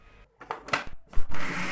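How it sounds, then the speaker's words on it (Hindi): Cooked chana dal being ground for halwa in a kitchen grinder, a few short whirring bursts followed by a louder sustained grinding run, close and with no talk. "बहुत अच्छी तरह इसको पीसना है।"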